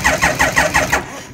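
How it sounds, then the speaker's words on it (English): A Suzuki RE5 rotary motorcycle engine cranks on its electric starter, six quick rhythmic chugs in about a second before the starter releases and the sound fades, close and loud with no talk. "The ignition is on, so I can hit the starter button, and I'm going to hit the start and we'll watch what happens."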